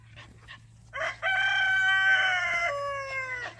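Chickens being herded into a coop give one long, loud, drawn-out call, close by and alone, after some faint scuffling.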